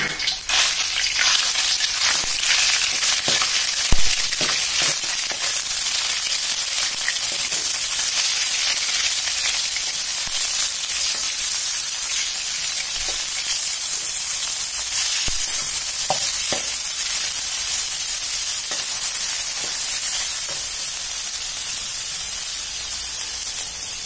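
Continuous loud sizzling of chicken frying in hot oil in a pan, steady throughout with occasional pops and crackles, no voices.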